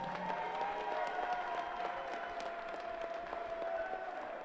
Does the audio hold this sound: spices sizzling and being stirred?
no